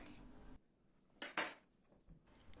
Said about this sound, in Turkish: kabağı öncelikle soyuyorum ve ardından küp küp olacak şekilde doğruyorum